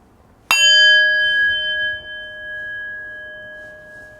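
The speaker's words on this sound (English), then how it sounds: "in just a moment I will ring the bell" A meditation bell struck once to close a round of meditation, a sharp clear strike followed by a long pure ringing tone that slowly fades over several seconds in a quiet room.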